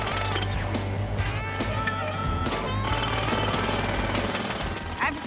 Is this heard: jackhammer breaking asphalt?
yes